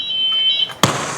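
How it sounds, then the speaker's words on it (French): A fire alarm sounds backstage at a concert, a steady high electronic tone that breaks off and is followed by a sharp, loud burst. "Il y a une alarme."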